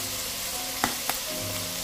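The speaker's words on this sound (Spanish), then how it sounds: "Y vamos a sofreír todo esto." Sofrito vegetables with oregano frying in a pan for chicken cazuela, a continuous bright sizzle with two brief clinks of a utensil near the middle.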